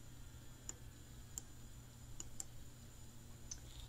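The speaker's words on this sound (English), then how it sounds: "So let's click on our button" Several faint, sharp mouse clicks, about five, land at uneven intervals over a quiet steady hum while a button is pressed in a spreadsheet.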